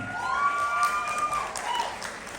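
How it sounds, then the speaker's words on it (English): Moderate audience applause at a school GQ pageant interview segment, a steady wash of clapping with a few whoops or tonal calls gliding over it. "Keep the applause coming as we welcome GQ number two, Mr. Uchenna Ohegla."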